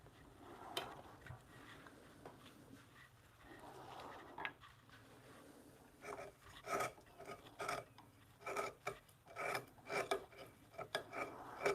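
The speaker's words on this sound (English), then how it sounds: "I'm gonna take a little off the tenon because I don't want to take any more wood from that support." A wooden mortise-and-tenon bunk bed rail gets its tenon trimmed, heard as close scraping, rasping strokes that begin soft and uneven and turn into a quicker run of sharper, rhythmic scrapes.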